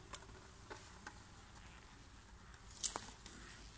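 A faint, steady buzzing of many honeybees in a hive fills the background, broken by a few soft clicks and taps.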